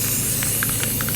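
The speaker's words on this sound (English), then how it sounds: "you're just gonna spray it like that" A spray paint can hisses steadily and close up while coating a homemade turtle costume, a loud continuous airy rush lasting about a second, with no talking.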